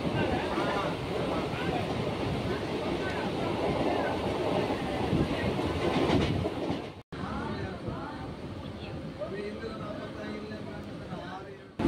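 A local train from Arakkonam Junction to Chennai Central rumbles steadily along the tracks while a voice speaks over the noise; the sound briefly cuts out near the middle.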